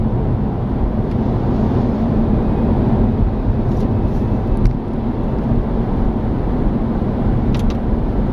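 A car driving along a road toward Tiburon, with steady broadband road and engine rumble throughout and no pauses or talk.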